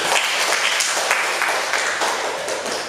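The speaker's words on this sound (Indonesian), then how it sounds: "Kasih aplaus dulu atau tepuk tangan dulu." Classroom applause from a group of students, a brief burst of dense clapping that stays steady and tapers slightly, with no talking.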